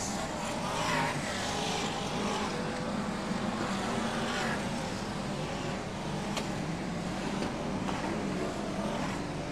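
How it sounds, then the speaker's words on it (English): BriSCA Formula 1 stock cars race at Long Eaton in 1994, a continuous dense engine roar from a distant pack circling the oval, steady in level throughout with no speech. "John Wright motoring hard up front, and it will be halfway next time through."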